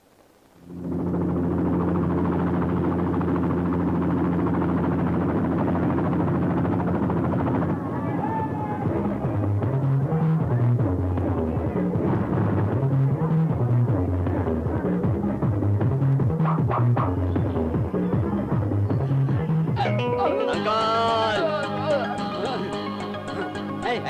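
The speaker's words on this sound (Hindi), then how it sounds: "हेलीकॉप्टर से आप आए?" A helicopter arriving in an Indian action film scene, a loud, steady throbbing rotor drone that swells and fills the scene, with dramatic music layered over it and a burst of sound near the end.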